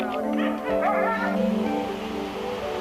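Sled dogs on an Arctic expedition yip, whine and bark in an overlapping, continuous chorus, close and fairly loud against a broad background wash.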